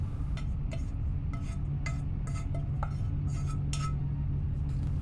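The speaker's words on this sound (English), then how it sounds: "And mix that all together." Par-cooked lentils and sautéed vegetables being mixed together in a bowl for meatless tofu burgers and meatballs, with soft scattered clinks and scrapes of a utensil over a steady low kitchen hum, no talking.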